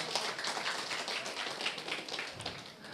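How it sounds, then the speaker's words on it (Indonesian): A stand-up comedy audience applauds faintly in the distance, scattered hand claps blending into a soft, steady patter. "Tepuk tangan untuk BKKBN."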